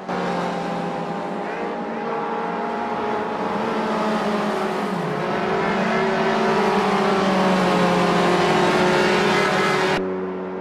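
A Puma GTE race car in Automobilista 2, racing at Hockenheim 1977 in a 1970s championship with a Fiat Uno close by. Its engine drone holds steady, and the pitch rises and falls as it accelerates and shifts gears.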